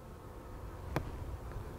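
Honey bees buzz steadily in an open hive during beekeeping while brood-chamber wax is handled, a faint continuous drone with one brief sharp click near the middle.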